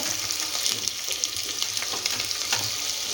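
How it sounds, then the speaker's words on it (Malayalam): Onions fry in hot oil for egg biryani, giving a continuous, even, close sizzle with light stirring rustles and no talking. "ചൂടായി വരുന്നുണ്ട്, സവാള ഇട്ട് കൊടുക്കാം കേട്ടോ."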